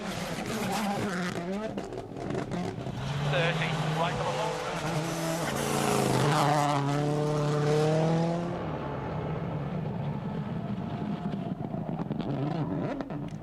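Rally cars sliding through corners at the 2023 WRC Croatia Rally, engines roaring and revving hard with rising and falling pitch as they pass close, a voice talking over parts of the action.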